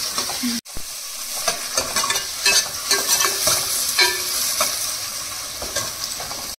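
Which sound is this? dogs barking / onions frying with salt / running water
onions frying with salt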